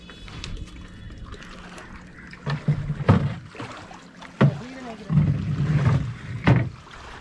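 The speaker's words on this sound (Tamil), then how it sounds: "அன்றைக்கு நம்ம ஆற்றுக்குள்ள ஒரு ரைடு ஒன்று போவோம் தோணியில்" A wooden thoni boat rowed on a river near Kokku Theevu, Batticaloa, with irregular paddle splashes and water sloshing close by, and people talking over them.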